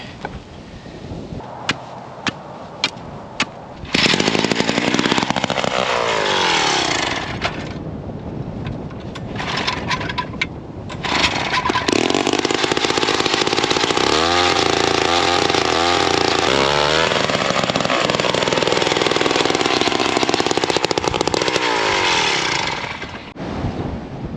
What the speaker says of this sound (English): I'm just gonna drill a hole.